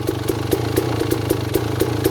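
A dirt bike engine fitted with a Keihin PWK 36 carburetor and JD jetting kit runs at a steady idle, a rhythmic pulsing putter with regular clattery beats, loud and close with no voices.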